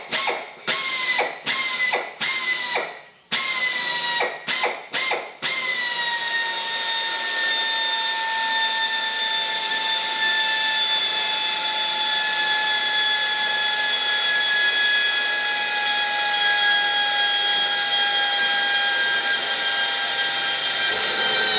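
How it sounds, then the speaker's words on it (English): A power tool cuts away the head of a rivet. Several short bursts of whirring and grinding come first, then one long, steady, loud metallic whine whose pitch slowly drifts, with no speech. "You got to take the head off the rivet."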